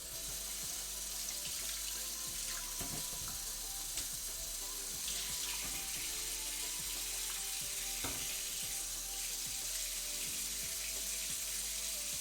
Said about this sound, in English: I'm going to quickly wash the zucchini